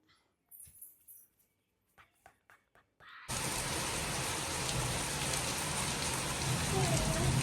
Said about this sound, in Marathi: पाऊस खूप मोठा आला आलेला आहे आणि वीज पण एवढी कडाडते